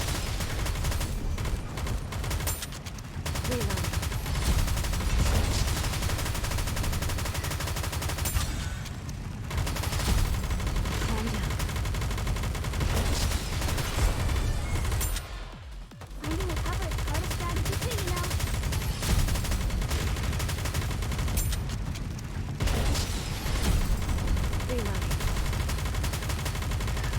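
Rapid automatic gunfire from the Nikke: Goddess of Victory shooter game roars almost continuously in loud sustained bursts, broken by a few short pauses for reloading, with voices speaking over it.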